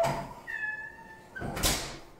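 A domestic cat meows once, a clear nearby cry rising and falling, followed by a brief scuffing or door-like noise in a home kitchen.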